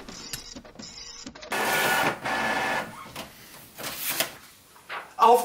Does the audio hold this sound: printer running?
yes